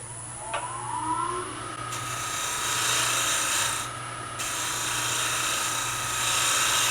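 A woodturning gouge cuts wood turning on a lathe, making a steady, close, whirring shave with a brief squeaky scrape near the start and slight shifts as pressure changes, with no talking.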